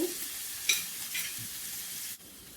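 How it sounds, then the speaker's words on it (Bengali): Chopped onions fry in oil in a pan with a steady soft sizzle, stirred with a brief clink of a utensil early on; the sound is faint and close, with no talking. "পেঁয়াজ কুচি দিয়ে দেবো নেড়ে পেঁয়াজ কিছুক্ষণ ভেজে নেব"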